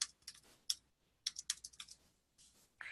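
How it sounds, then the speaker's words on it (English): Keystrokes on a computer keyboard come in short, irregular bursts of close, crisp clicks separated by brief pauses, with no voices heard. "I should probably pay attention to what I'm typing here so I get it to match."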